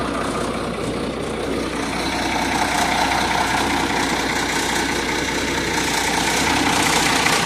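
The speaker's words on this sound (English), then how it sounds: "I lift the pedal and turn it all the way down so she'll idle down." A truck's engine idles down after the throttle is lowered, a steady loud low rumble with a faint mechanical rattle, close and continuous with no talking.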